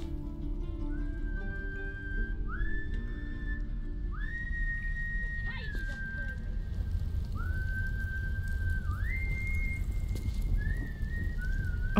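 A character in Baldur's Gate 3 whistles a short tune of bright rising and falling notes, held then gliding between pitches, over a steady rain-like wash and low rumble, with no talking.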